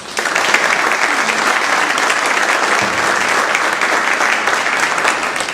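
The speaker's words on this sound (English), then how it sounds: "Would you please give them a big round of applause?" Sustained, dense applause from a large audience at a 2015 Wilson Chamber meeting, loud and steady throughout with no break.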